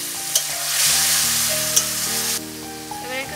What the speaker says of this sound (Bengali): অল্প অল্প করে জল দিয়ে আমি মশলাটাকে ভালো করে কষিয়ে নিচ্ছি।